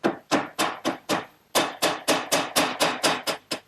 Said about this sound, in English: take these little 1/4-inch dowels and just put a little bit of glue on them. And then drive those in through my pre-drilled holes.